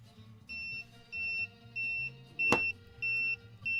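A timer beeps in a steady repeating pattern of short electronic tones, about six evenly spaced beeps, with a single sharp knock partway through and a low hum underneath.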